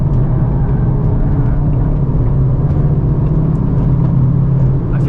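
A 2023 Honda Civic Type R at speed on a race track at Gingerman Raceway, with a steady, loud engine drone and road rumble that holds constant throughout, and no talking.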